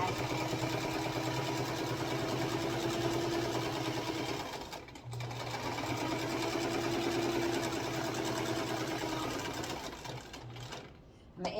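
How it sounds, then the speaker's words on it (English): A sewing machine runs steadily while edge stitching around the border of a fabric piece, whirring at a close, even hum with a short pause midway before resuming. "I'm going to edge stitch all the way around"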